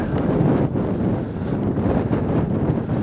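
Strong gusty wind buffets the microphone outdoors during a walk by the River Ancholme at Bishopbridge, a loud continuous rumble that rises and falls with no voices.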